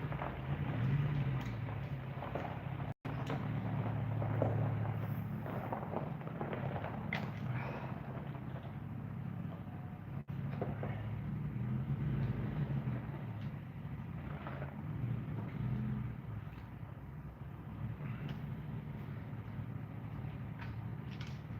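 A carbureted engine idles with a lumpy, loping rhythm, steady and moderately loud throughout, with a couple of sharp clicks cutting in.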